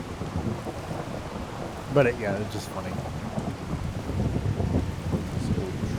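Steady rain with rumbling thunder in an outdoor scene of the video game Skyrim, a continuous wash of rainfall and low rolls under a brief spoken line.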